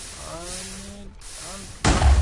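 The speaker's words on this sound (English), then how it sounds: "When you get too close to him, then you're going to hear an explosion." A Minecraft explosion from the Natural Disaster mod hits as one sudden, loud, booming blast near the end, after a stretch of talking over quiet game background.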